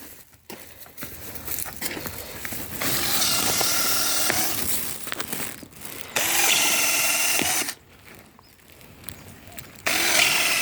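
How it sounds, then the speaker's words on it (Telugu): A power drill whirs loudly and close in several bursts of a few seconds each, boring holes for drip irrigation fittings, separated by brief pauses with quieter handling noise. "వెంకటరత్నం డ్రిల్ వేస్తున్నాడు నేను టేకప్ రబ్బర్లు పెడుతున్నాను"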